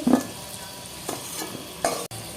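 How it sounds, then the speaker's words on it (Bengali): Potatoes fry in hot oil in a pan, a constant sizzling hiss punctuated by a few scraping stirs of a spatula, heard up close without any speech. "আলুটা ভাজা হয়ে গেছে, রেডি। লাল করে ভেজে তুলে নিচ্ছি।"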